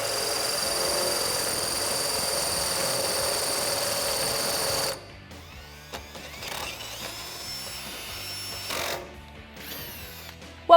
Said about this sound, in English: what we can do is just drill it out while it's attached to our steering box